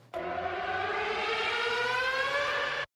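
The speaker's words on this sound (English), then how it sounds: "this siren" A siren sample used in a music remix rises steadily in pitch, one loud continuous wailing tone that starts abruptly and cuts off cleanly after nearly three seconds.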